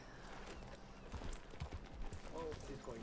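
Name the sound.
horse hooves clip-clopping in the video game RedM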